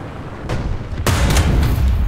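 Tank cannon fire in War Thunder: a muffled distant shot followed by a loud, close cannon blast with a rumbling boom and lingering rattle, a KV-1 battling Panzer IVs.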